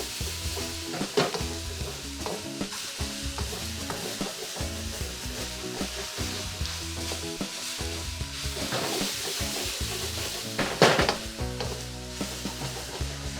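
Vegetables for a vegan, gluten-free lo mein stir-fry in a pan as a utensil repeatedly scrapes garlic and ginger stuck to the bottom, with steady sizzling and a few sharper scrapes near the end; nobody speaks.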